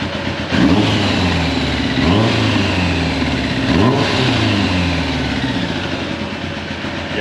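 A Kawasaki ZX11 motorcycle engine runs steadily while warming up, with several throttle blips rising and falling in pitch, loud and close.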